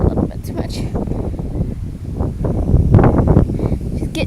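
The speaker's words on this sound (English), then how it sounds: "Oh, the wind." Blustery autumn wind buffets the microphone outdoors, a low rumbling roar that swells and eases, with rustling mixed in throughout.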